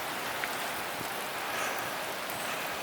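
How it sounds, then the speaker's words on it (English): Steady hard rain pours down in a forest, a dense even hiss with scattered nearby drop impacts, continuous and with no voices. "Pretty much raining pretty hard right now,"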